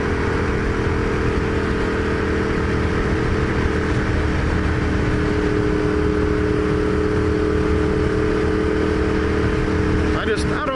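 A Ducati Diavel motorcycle engine drones steadily while riding, buried under constant loud wind rush, with a muffled voice over it throughout.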